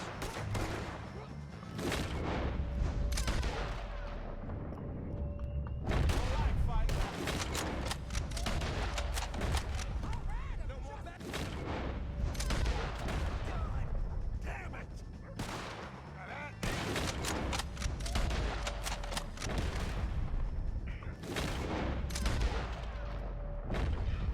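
Gunfire crackles through a Red Dead Redemption 2 shootout with O'Driscoll gang members, repeated sharp shots and bursts in clustered volleys that fill the mix, while shouted voices cut in between them.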